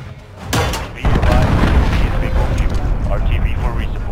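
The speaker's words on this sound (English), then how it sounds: "Enemy cruise missile incoming." A heavy cruise missile strike explodes in Modern Warfare multiplayer, a sharp blast followed by a loud sustained rumbling roar, with game voice radio chatter over it.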